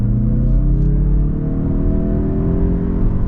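A 2021 Mazda CX-30 Turbo accelerates hard to pass on an empty road, its engine note climbing steadily in a loud, continuous rising drone with no talking.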